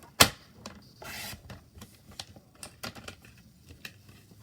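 Paper being cut to 3 1/4 inches for a card mat in a stamping craft session: one sharp snap, then a longer slicing swipe, followed by soft clicks and light rustling, close up and without voices.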